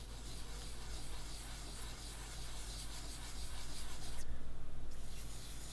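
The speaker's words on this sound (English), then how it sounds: "now I'm going over it with my finger again" A fingertip rubbing soft pastel into paper makes a quiet, continuous gritty scrubbing that grows slightly louder toward the end, heard close up with no talk.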